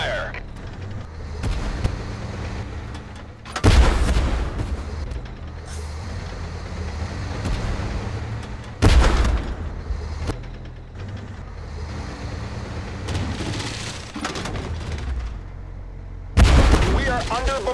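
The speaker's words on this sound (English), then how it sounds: "We are under bombardment!" Artillery fire and explosions in the Tank Force video game, three heavy booms spaced several seconds apart over a continuous rumbling engine and battle din.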